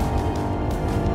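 Honda Legend with SH-AWD driven hard through a corner, a steady, loud, dense engine and road roar that holds constant without a break, heard from inside the car.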